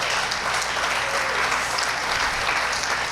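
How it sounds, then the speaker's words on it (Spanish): A church congregation claps steadily in a dense, even wash of applause for a few seconds, moderately loud, with no break in the sound. "Dale un aplauso al Señor."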